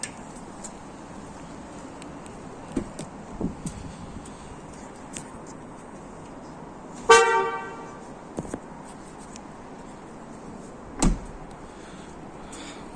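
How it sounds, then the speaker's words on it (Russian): A Volga car horn fitted to a 2021 Skoda Rapid sounds one short, loud, buzzy honk in the middle, with a few faint clicks and a thump from work on the car around it. "Вот это уже нормальный человеческий сигнал."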